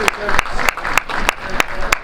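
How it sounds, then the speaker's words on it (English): Crowd at a college football game applauding veterans and their families, with sharp repeated claps standing out over a dense, steady wash of applause and crowd noise, loud and close throughout. "Let's give them a round of applause, all veterans and families of veterans that are here"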